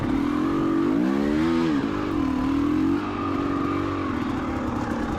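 A KTM 300 XCW two-stroke dirt bike engine revs up and down in rising and falling pulls, loud and close, then settles into a steadier burbling drone while crawling over rocky trail.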